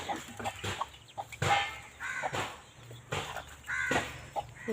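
Fowl calling repeatedly, clucks and short squawks coming in bursts at close range with a noisy outdoor background.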